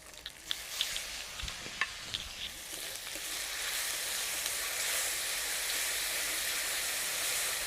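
Tomato paste and ground spice pastes fry in oil in a pan for a jackfruit and prawn curry, with a few clanks of stirring at first, then a loud, continuous close sizzle that carries on steadily.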